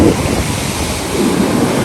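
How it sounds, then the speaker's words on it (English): Loud ocean surf breaks on a dog-friendly beach, a dense roaring wash of waves close by with heavy wind buffeting the microphone. "the waves are super loud"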